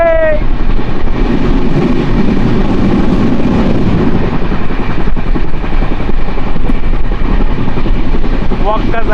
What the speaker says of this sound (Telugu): rain plus train is the deadly combination